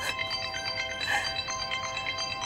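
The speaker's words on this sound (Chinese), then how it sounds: "你电话响了。" A mobile phone rings indoors with a bright, repeating electronic ringtone that plays steadily and clearly for a few seconds.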